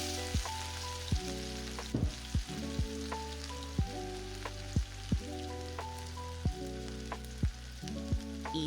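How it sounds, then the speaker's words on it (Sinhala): Chopped garlic and ginger fry in hot coconut oil, giving a steady sizzle broken by frequent little pops and crackles, quiet but close, with no voices over it. "තෙල් ටික හොඳට රත් වුණාම පොඩියට කපාගත්තු සුදු ලූණු සහ ඉඟුරු එකතු කරගන්නවා."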